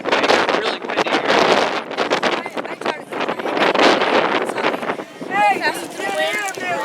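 Strong wind buffets the microphone at an outdoor cross-country race, a loud continuous rumble and roar running underneath a conversation that carries on throughout.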